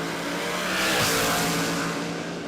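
Drag racing cars launch side by side at the Brisbane Jamboree racetrack, a loud engine roar swelling to a peak and then holding steady as they pull away, heard without commentary.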